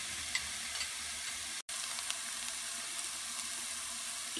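Onions frying in hot oil for a Tamil kothu chicken dish, a steady soft sizzle running throughout with a brief dropout partway and a few faint clicks, no voices.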